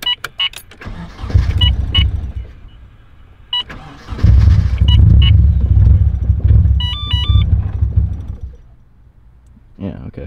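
A drift car with its fuel pump switched off cranks loudly several times, each attempt catching briefly then dying, close by, with electronic chimes and short pauses between tries.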